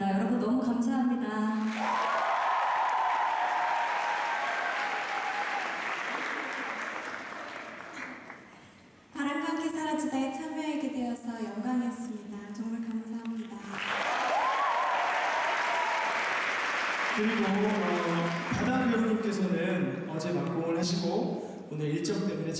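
Audience applause at the final curtain call of a musical, loud sustained clapping that fills the hall and swells again after a pause, with a voice speaking over an amplified system between the rounds.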